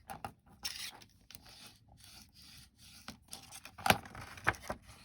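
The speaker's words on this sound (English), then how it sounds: "And now we're going to fold on each score line and burnish it." Paper is folded along the score lines of a handmade treat box and burnished, giving soft, close rubbing and scraping strokes with a few sharper crisp scrapes near the end.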